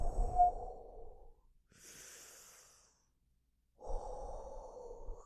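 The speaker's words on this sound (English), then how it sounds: "Take some deep breaths with me, okay?" Deep, slow breathing from a voice close by, a breath in and a breath out, then a long pause before another exhale, soft and intimate.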